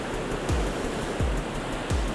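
Sea waves swell and wash onto a shore on a fishing and camping trip, a steady broad surf roar with soft periodic surges as each wave rolls in.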